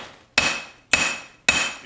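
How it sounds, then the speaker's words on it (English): Three sharp, evenly spaced hammer blows on a stacked Damascus steel billet, each a bright metallic strike with a short ringing tail, loud and close with nothing else heard. "So just give it a light hammering"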